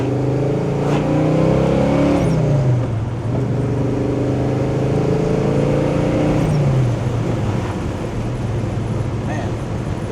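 A 1967 Chevrolet Chevelle SS restomod accelerating hard on the road, its engine note rising steadily through the gears, heard loud from inside the car with a driver talking over it.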